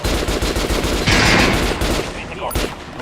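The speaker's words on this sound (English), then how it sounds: "Now shoot the armor, dummy." Rapid, loud gunfire in the first-person shooter Metro Last Light, bursts of automatic shots fired at an armored training dummy, close and continuous before tapering off.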